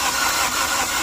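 A Maruti Ertiga's 1.5-litre petrol engine is being cranked, its seized engine giving off smoke. The steady, loud mechanical churn lasts about a second, with no voices.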